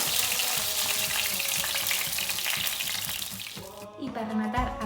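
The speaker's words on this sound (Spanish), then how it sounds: "Las tornamos para hacerlas freír por los dos costados." Vegan torrijas fry in a pan of oil with a steady close sizzle, then a clatter and a brief burst of splashing as the slices are turned to cook the second side.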